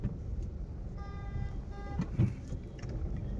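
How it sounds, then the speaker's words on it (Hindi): Traffic jammed on the road leaving Nizamuddin, Delhi: a steady low rumble of idling vehicles with a brief horn tone and a few faint honks further off, heard from inside a taxi. "ये देखो बाहर निकलने का पूरा ट्रैफिक जाम है।"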